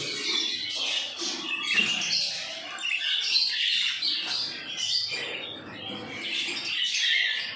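Caged budgies, lovebirds and java sparrows in an indoor breeding setup squawk and chirp in a dense, continuous chorus close by, with no voices heard.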